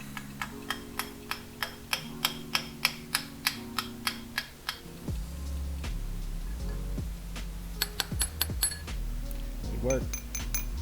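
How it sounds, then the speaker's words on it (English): Light metal tapping on a stuck hydraulic roller lifter inside an LS2 engine, a string of sharp, ringing clinks in steady rhythm, close up, then heavier scattered knocks and scraping metallic sounds. "So here I'll give it some taps, try to free this thing up."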